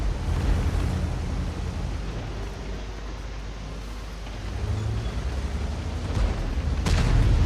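A World of Tanks tank gun booms amid a constant low rumble of engine and battlefield noise, with a heavy blast and crackling debris building toward the end.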